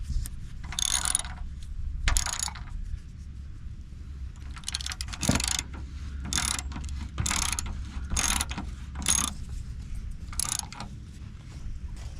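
A ratchet wrench tightens the bolts on a hidden winch mount fitted to a Silverado 2500HD truck's frame: repeated close, crisp bursts of rapid clicking separated by short pauses, with no talking.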